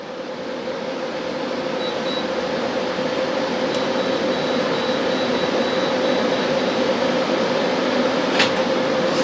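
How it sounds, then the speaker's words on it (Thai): A room air conditioner runs with a steady, even hum and airy rush that holds constant throughout, with a faint intermittent high whine above it and no talking. "เปิดแอร์ในห้องก่อนครับ"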